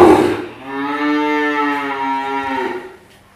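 A Sahiwal or cross-Brahman bull calf on a dairy farm gives one long, loud, close moo lasting about three seconds, its steady drawn-out tone fading at the end.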